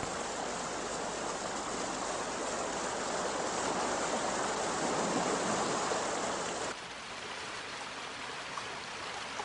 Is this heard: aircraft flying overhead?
no